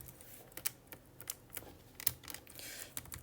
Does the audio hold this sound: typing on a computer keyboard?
yes